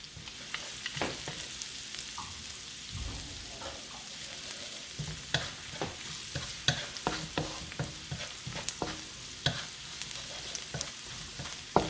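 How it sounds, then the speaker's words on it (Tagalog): Garlic sizzles in oil in a pan as a utensil stirs it, with steady frying hiss and frequent close scrapes and taps against the metal. "Antayin natin hanggang medyo brown yung garlic."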